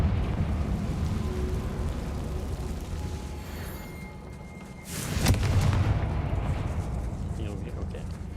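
A Confringo spell detonates in Hogwarts Legacy, a sudden loud blast with a crackling, rumbling tail rising over a constant low rumble of game ambience.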